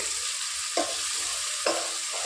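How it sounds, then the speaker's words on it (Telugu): Masala paste fries in a pan for a gulivindala fish gravy, giving a constant bright sizzle broken by two scraping strokes of a spoon stirring it, close up and with no talk. "ఇంకొంచెం బాగా ఫ్రై అయ్యే వరకు వేయించుకోవాలి"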